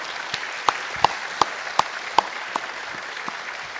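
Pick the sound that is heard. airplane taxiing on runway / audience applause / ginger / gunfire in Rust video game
audience applause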